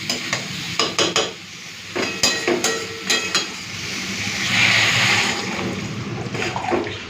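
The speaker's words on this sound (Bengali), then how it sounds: "চলো জল দিয়ে দিয়েছি এখন মিশিয়ে নিই" Soybean, potato and pointed gourd curry is stirred in a pan after water goes in, giving a series of scraping, sloshing strokes over a low simmer, followed by a steadier bubbling hiss.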